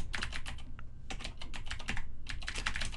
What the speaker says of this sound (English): H1, I'll go ahead and type in page structure